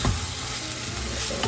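Fried potatoes dropped into sizzling tomato masala for Ghugni yellow peas curry and stirred, a dense continuous sizzle with a brief thud at the start, close and loud, no voices.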